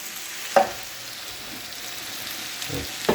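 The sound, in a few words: hamburger soup cooking and bubbling in pot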